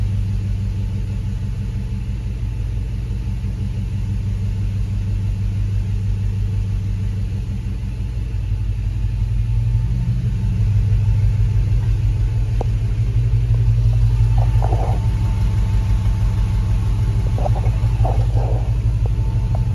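A Hemi V8 swapped into a Grand Wagoneer, idling: a loud, steady low rumble close by, swelling slightly partway through, with a few faint clicks over it and no speech.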